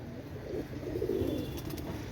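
A pair of Pakistani high-flying teddy pigeons give a soft, low, rolling coo close by, steady and quiet against faint background noise.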